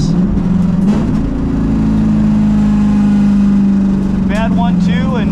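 A drag racing car fitted with a cat-back exhaust runs at the track, its engine a steady loud droning rumble that holds through the whole stretch, with a voice talking over it near the end.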